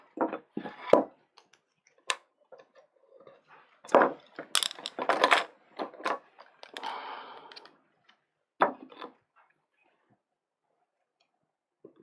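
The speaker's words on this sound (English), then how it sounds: "So I'm just going to carve a simpler registration mark right now." Hand carving of a registration mark into a printmaking woodblock: sparse, close, sharp cutting scrapes and clicks come in short clustered bursts with quiet gaps between, and no talking.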